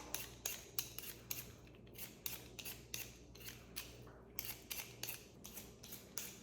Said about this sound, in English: so I'm just going to peel that part off.